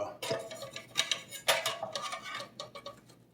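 Light metallic clinks and scrapes of air fryer chicken being lifted out of a pot, a quick irregular series of close ticks and taps at low volume.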